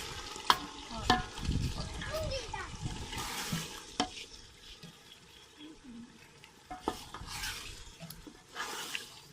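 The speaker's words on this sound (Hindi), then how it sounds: "अभी इसमें हम आलू डालेंगे" Potatoes tipped into browned masala for aloo chawal begin frying, with stirring clatter and a steady sizzle running through, a few sharper scrapes and clinks of the spoon against the pan.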